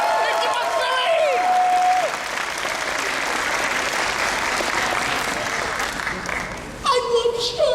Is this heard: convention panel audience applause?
yes